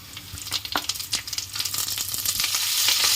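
Curry leaves crackle and sizzle as they fry in hot oil with onions for a Telangana-style upma, a dense near hiss that swells steadily louder over the few seconds, with no voices.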